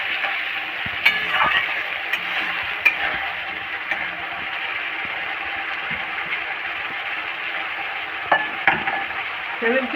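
Sliced onions sizzle steadily in a pan with a pinch of salt, a bright continuous frying hiss broken by a few sharp clicks of a spatula stirring against the metal, close and with no talking.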